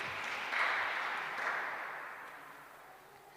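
Congregation clapping at an Easter Sunday Eucharist celebration, a broad wash of applause that swells early, then gradually fades and thins toward the end, moderately distant and without any voices.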